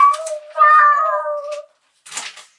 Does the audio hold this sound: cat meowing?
yes